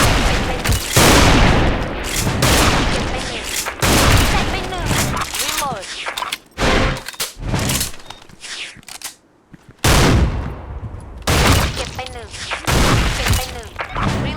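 Barrett Siege sniper rifle firing in the game Special Force 2, loud booming shots in quick bursts with sharp cracks and brief gaps, close by, with a voice talking over parts of it.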